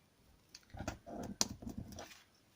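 A pencil draws a small rounded egg shape on paper, giving close, quiet scratches and light taps in an uneven rhythm over a couple of seconds.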